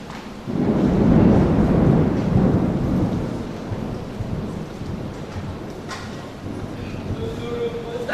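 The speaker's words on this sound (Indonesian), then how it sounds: "Bojong lalai teh hujan bae." Heavy rain with rolling thunder, a loud low rumble swelling early and then easing into a steady downpour wash that continues throughout.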